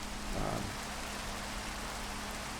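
Steady rain in Minecraft, a dense even hiss of drops falling continuously with no other sounds.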